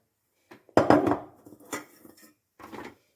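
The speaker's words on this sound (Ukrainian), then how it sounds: "Висипаємо картоплю на противень." Raw potatoes tumble onto a metal baking tray and get spread out for an oven-baked pork and mushroom dish, a loud clattering pour followed by a few quieter scraping shuffles close by.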